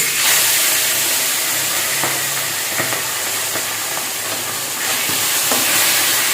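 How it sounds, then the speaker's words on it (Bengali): A fish head fries in hot oil, giving a steady close hiss and sizzle throughout, with occasional faint clinks and stirring knocks in a home kitchen. "এবার মাছের মাথা ভাজছে।"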